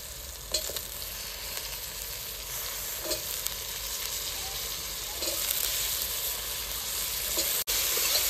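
Potatoes tossed into a hot pan with turmeric powder for a Maharashtrian palak batata bhaji, giving a steady close sizzle of frying with occasional stirring scrapes.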